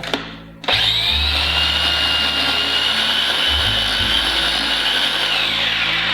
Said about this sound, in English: move around the more finely blitzed garlic from the bottom to the top, and give it a final whirl